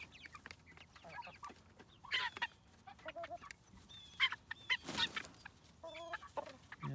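Chickens cluck and squawk inside a newly built chicken tractor, with scattered short calls and a few sharper squawks, fairly quiet and with no talking.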